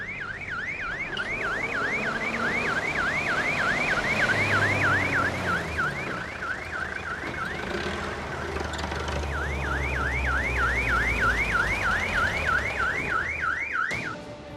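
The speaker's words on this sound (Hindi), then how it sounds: "सर, मैंने ऑलरेडी फ़ोन कर दिया, एम्बुलेंस एनी मोमेंट आती है।" An ambulance siren wails in a fast, repeating up-and-down warble, fairly loud over low traffic rumble, pausing briefly near the middle before resuming, then cutting off at the end.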